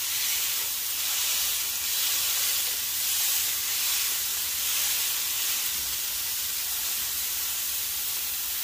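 Smash burger patties sizzle on a Blackstone griddle with a steady, bright, close hiss that stays even for the whole stretch, with no talking over it.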